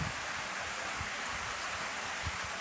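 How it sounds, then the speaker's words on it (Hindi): Natural waterfalls tumbling near a cave send up a steady, faint, diffuse rush of falling water that carries on without a break and with no voices. "झरनों की कल कल आवाज।"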